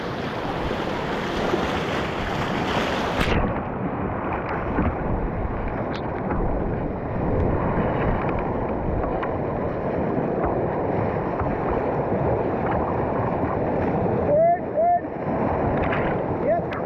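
Canoe paddling on a remote Arctic river with rapids, water rushing and splashing steadily throughout, with wind noise, paddles working through the current and a voice calling out paddling commands.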